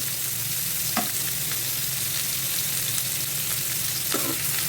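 Chopped tomato, ginger and garlic sauté in an oiled pan with a continuous, fairly loud sizzle and crackle, broken by a couple of brief scrapes of a spoon; no one speaks.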